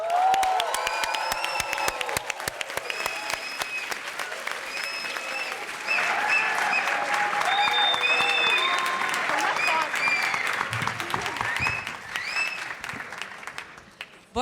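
Sustained applause from a large audience at the Brazil Conference at Harvard & MIT, dense clapping that swells and holds for over ten seconds before tapering, with a few cheers and voices mixed in.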